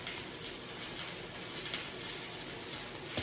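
Pork searing in a pan, a dense continuous crackling sizzle with faint pops throughout, steady and fairly close, no voices.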